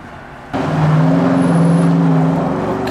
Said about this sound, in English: we are currently waiting for this car to pass